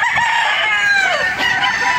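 Boston pullets and hens on a farm in Padre Garcia, Batangas, crowing and clucking together in a loud, continuous overlapping chorus close by.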